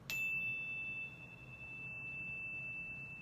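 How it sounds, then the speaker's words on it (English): Chimes are struck once for sound-healing meditation, a bright metallic ding that settles into a clear, sustained ringing tone, faint and lingering alone in a quiet space. "And I play chimes because chimes are very powerful."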